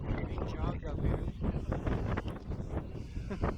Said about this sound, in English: the wind picked up significantly at the summit of Mount Adams